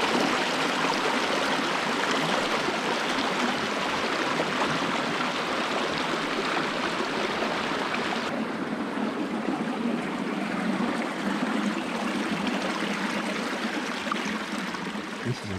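Cold mountain stream on a Virginia hiking trail, water flowing in a steady broadband rush that stays even and close for the whole stretch, with no voices over it.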